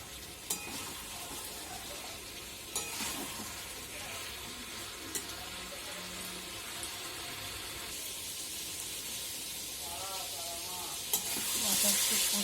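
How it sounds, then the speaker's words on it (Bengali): Eggplant and spices sautéing in a pan for a quick spicy amudi fish curry, with onion, garlic, ginger and tomato: a steady, close sizzle with occasional scraping stir clicks, no talk. "একটু কষিয়ে নিলাম বেগুন দিয়ে, মশলা দিয়ে।"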